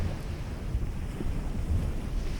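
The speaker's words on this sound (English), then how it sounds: "Venture closer now until the waves begin to touch your feet." Ocean waves wash onto a seashore with a steady low rush and roar, buffeted by wind noise on the microphone, with no voices.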